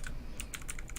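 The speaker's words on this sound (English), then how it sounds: "Your new keyboard is very clicky, Jenna." Rapid keystrokes on a clicky computer keyboard, a quick uneven run of sharp, bright clicks, fairly close and alone with no voices over them.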